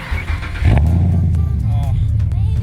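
A car engine firing up close by, a sharp catch followed by a deep, steady rumble as it settles, with voices talking over it.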